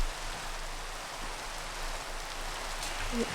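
Heavy rain pouring, an even, fairly quiet hiss of falling water that stays constant for a few seconds with no talking.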